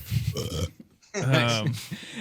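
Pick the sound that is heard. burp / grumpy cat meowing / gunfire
burp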